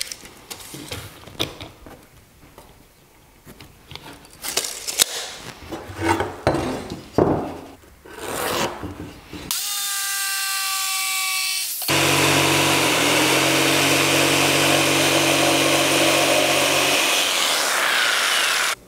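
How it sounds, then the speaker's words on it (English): Pine boards are handled and clatter with scattered knocks before a power saw spins up with a rising whine. A steady, loud cut through the pine follows, then the saw winds down at the end. "I'm gonna start this project off by cutting two pieces at 17 inches."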